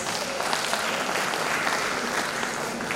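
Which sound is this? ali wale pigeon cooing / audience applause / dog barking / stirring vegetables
audience applause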